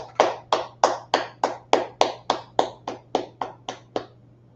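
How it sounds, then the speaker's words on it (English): At a Wednesday law class, a steady run of about fourteen sharp, evenly spaced claps rings out close and clear, each with a short ringing tail, over a low constant hum and no talk. "Let's clap it up."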